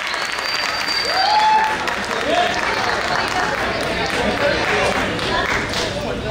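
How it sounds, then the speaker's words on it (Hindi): A crowd claps loudly for Kartik Lahane as he comes on stage at a solo performance, steady dense clapping throughout with cheers and whistles rising above it. "कार्तिक के लिए एक बार जोरदार तालियां होनी चाहिए।"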